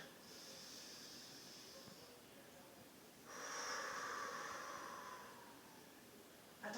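A deep, drawn-out inhalation during a posture breathing exercise, a soft airy breath rising around the middle and fading slowly, preceded by a quieter exhale, close and alone.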